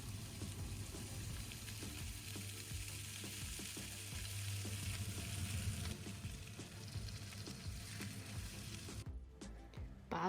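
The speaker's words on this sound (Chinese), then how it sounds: "锅热，放入骨头， 煎出香味。" Beef bones searing in a hot pan give off a continuous crackling sizzle, close and fairly quiet, with spattering pops, a few clanks of the pan, and a brief lull near the end.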